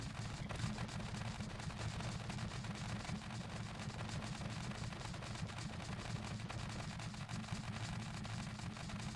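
Rapid automatic fire from a stabilized gun in Scrap Mechanic, a steady, dense stream of rattling shots that continues evenly for the whole stretch at moderate loudness.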